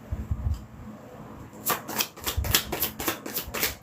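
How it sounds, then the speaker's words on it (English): A deck of tarot or playing cards gets riffled in a rapid burst of crisp fluttering snaps, near and fairly quiet, after a few soft handling taps. "Last shuffle."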